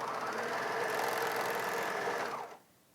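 A Bernina 700D serger stitches fabric around a curve, giving a rapid, even mechanical whir of needle strokes close up for about two and a half seconds before stopping, leaving quiet room tone.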